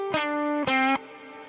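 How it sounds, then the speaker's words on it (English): Two sustained guitar notes through a DDMF Envelope reverb plugin, each swelling in and ringing out with a long, deep reverb wash before fading into near silence. "Push the depth on up or the reverb length."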